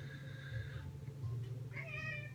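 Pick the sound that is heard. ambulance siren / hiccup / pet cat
pet cat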